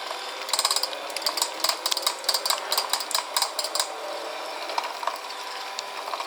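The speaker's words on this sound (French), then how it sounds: "On utilise la machine qu'on utilise pour les gâteaux." An electric cake mixer breaks up tomato for tomato jam, giving rapid rattling clicks over a faint motor hum that thin out toward the end.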